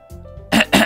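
A person clears their throat twice in quick succession, two short, loud, rasping bursts after a brief quiet moment.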